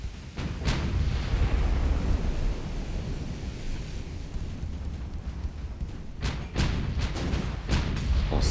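A naval gun salvo fires in the warship game Ultimate Admiral: Dreadnoughts, with deep booming blasts under a steady roar like wind and surf and several sharp cracks near the end.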